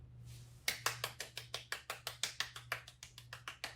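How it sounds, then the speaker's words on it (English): Applause at a ceremony: after a brief quiet moment, close, crisp claps start and continue in a fast, even rhythm until the end. "a round of applause"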